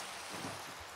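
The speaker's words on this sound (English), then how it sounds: "It's raining and stuff." Rain in Minecraft, a soft, steady hiss of falling rain, faint and continuous across a brief moment.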